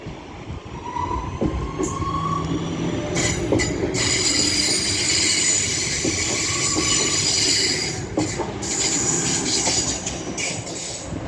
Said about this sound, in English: Now getting ready to depart is the delayed 1334 Northern service to Manchester Piccadilly.